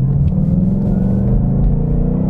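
Engine and exhaust of a 2018 Ford Mustang GT driving at low speed, a loud, close, steady deep rumble with a throbbing low-frequency burble and no talk.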